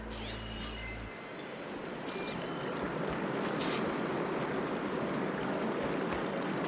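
Steady flowing water fills a room inside the game Horizon Forbidden West, a continuous broadband rush with faint clinking and pouring touches, heard alone without talk.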